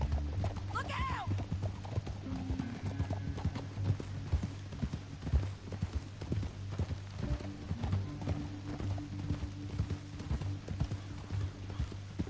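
Several horses gallop in Red Dead Redemption 2, their hooves pounding in a dense, steady clatter throughout, with a brief whinny or call near the start over a constant low rumble.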